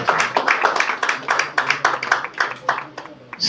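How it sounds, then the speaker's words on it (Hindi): At a Red Cross blood donors day event in Faridabad, an audience claps to welcome chief guest Krishna Kumar, a close burst of rhythmic hand claps pulsing steadily for a few seconds before thinning out. "जोरदार तालियों से माननीय कृष्ण कुमार जी का स्वागत और सम्मान करें"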